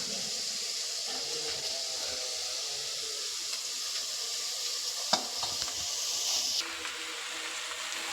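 Chopped, washed red amaranth leaves go into a hot pan for a Konkan-style stir-fry, giving a steady close hiss and sizzle with faint stirring and one brief clatter midway.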